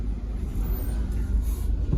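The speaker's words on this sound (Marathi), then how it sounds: "बापरे, किती ट्रॅफिक लागली आहे" Road traffic in heavy congestion, a steady loud engine rumble from cars and buses close by, continuous and without a break.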